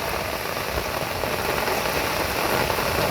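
Heavy rain pouring down during fishing outdoors, a dense, loud, even hiss of drops with a faint engine-like hum underneath and no voices.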